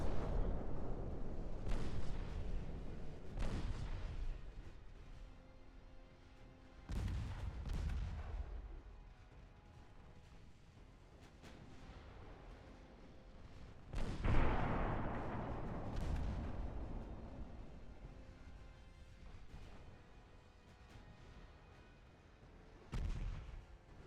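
Naval gunfire in Ultimate Admiral Dreadnoughts: heavy, booming salvos land at irregular intervals, each one rumbling loud and deep before decaying into a long roll over the open sea.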